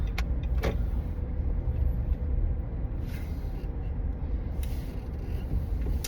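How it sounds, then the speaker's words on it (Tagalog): Steady road traffic rumble with passing cars, continuous and moderately loud, heard from inside or beside a congested road in the Philippines, with faint brief clicks and no talk. "Grabe traffic."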